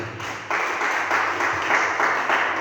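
A church congregation applauding together, a steady wash of clapping hands that swells after a quiet start and carries on evenly at moderate loudness, with no voices over it.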